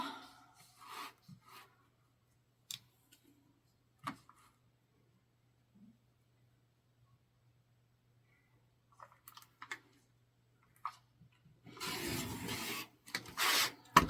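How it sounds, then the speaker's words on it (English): Quilt fabric is trimmed along its edge for binding, with brief scattered rubbing and cutting sounds, then a longer scraping rasp near the end, all close and fairly quiet. "I just trimmed off a very little bit"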